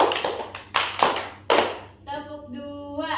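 A classroom of children claps together in a clapping exercise: a handful of sharp, unison claps in an uneven rhythm, fairly close, followed by a voice speaking.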